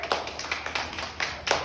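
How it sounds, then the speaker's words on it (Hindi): A small group clapping for a child during a classroom alphabet game, a short burst of uneven, light handclaps at close range, with no talk over them. "युवराज जी की तालियां बजाई जाए।"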